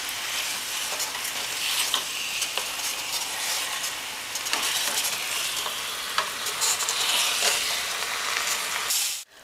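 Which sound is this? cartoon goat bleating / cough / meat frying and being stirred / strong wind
meat frying and being stirred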